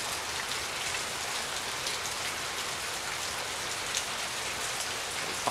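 Steady rain patters densely on a surface, a continuous even hiss with occasional louder drops.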